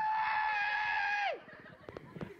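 A voice imitates a high-pitched screaming squeal, a loud sustained shriek lasting over a second that drops sharply in pitch at the end, followed by quieter scattered noises.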